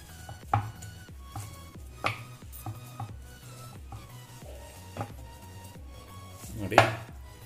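Rice-flour dough for Mysore-style masala akki rotti is worked in a bowl, with scattered knocks and clinks of hand or utensil against the bowl over soft mixing, close and without talk.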